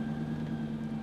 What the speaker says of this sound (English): What you are hearing right now is an exhaust leak coming from this 4-liter V8.